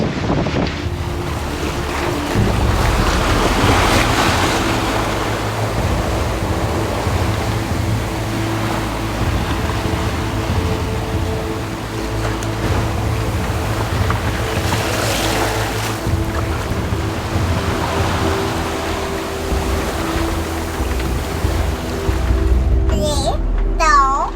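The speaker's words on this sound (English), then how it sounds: "it's been quite windy, and we've been having quite big waves now" Strong wind in gusts above 35 knots and big waves surround a sailboat on an Atlantic crossing, a continuous loud roar of wind buffeting the microphone over rushing water, swelling and easing with the gusts.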